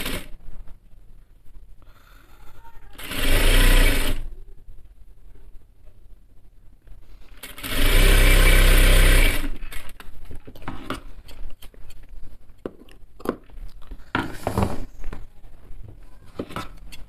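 Sewing machine stitching a men's kameez, two loud bursts of fast motor-driven stitching a few seconds apart, separated and followed by quieter handling clicks and fabric rustle.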